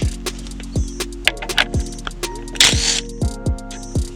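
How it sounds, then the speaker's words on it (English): Short bursts from an impact wrench with a 17mm socket spin off the steering wheel bolt on a BMW F20/F22/F30, about ten quick rattling hits in a choppy rhythm, close and fairly loud with a mechanical ratcheting edge. "I'm going to go ahead and grab a 17mm and my impact wrench"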